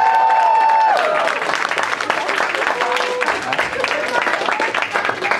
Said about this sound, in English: can we give Matt a round of applause for his first con?